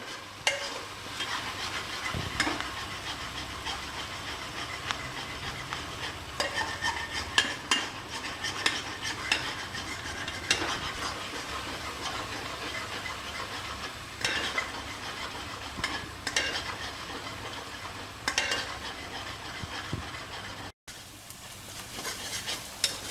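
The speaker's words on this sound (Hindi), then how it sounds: "हमारा ये खसखस का जो पेस्ट तैयार किया था ये बढ़िया भुन गया है।" Poppy seed paste being fried in a pan for an Indian chicken curry, a steady sizzle with repeated scraping and clinking of a spoon as it is stirred, close and continuous without talk.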